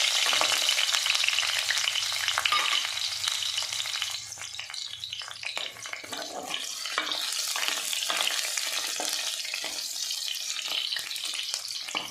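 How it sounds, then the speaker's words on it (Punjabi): Slices of green chili and ginger fry in a pan, giving a steady crackling sizzle with scattered pops and stirring scrapes, close and continuous with no talk. "ਥੋੜੀਆਂ ਜਿਹੀਆਂ ਸਲਾਈਸ ਹਰੀ ਮਿਰਚ ਦੀਆਂ ਤੇ ਅਦਰਕ ਦੀਆਂ ਇਹ ਵੀ ਅਸੀਂ ਫਰਾਈ ਕਰਕੇ ਪਾਵਾਂਗੇ"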